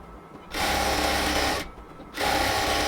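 A sewing machine stitches up a palazzo pant leg from the hem upward, running close and loud in two steady bursts separated by a brief pause, with no talking.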